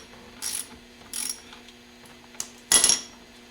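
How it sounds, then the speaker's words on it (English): A ratchet wrench loosens the window regulator bolts on a Mercedes 300D W123, giving three close bursts of quick clicking, the last one loudest, with quiet pauses between and no talking. "all we have to do to change this regulator is unbolt these 3 bolts"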